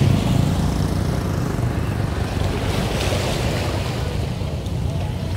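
Sea waves at Gò Công beach in Vietnam surge in a continuous loud rush, broken surf churning close by with heavy wind buffeting the microphone throughout.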